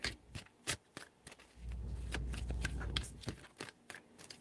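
A deck of tarot cards is shuffled by hand at close range: crisp snaps and flicks, then a longer riffling rush, then more scattered taps and card slaps.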